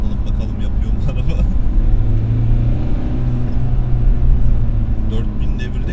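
A Renault Symbol 1.5 dCi diesel sedan pulls in second gear around 3000 rpm, a steady droning engine rumble heard from inside the cabin while someone talks over it.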